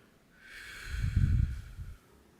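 During a heart-breathing relaxation exercise, a person lets out one slow, close breath out that swells for about a second and fades, with a low airy rush and no talk.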